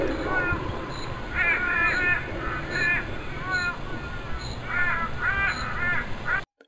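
Crows in the video game Grandmother's Garden caw over and over in clustered bursts of harsh calls above a steady low ambient hum, moderately loud, before the sound cuts off abruptly at the end.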